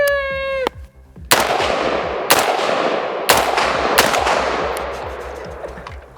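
Sharp rifle shots from an AR-15 or AK-47 at an outdoor range crack out one at a time, four or five loud reports spaced about a second apart, each trailing a brief echo, after a short electronic beep.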